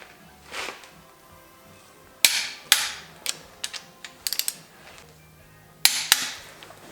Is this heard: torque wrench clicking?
yes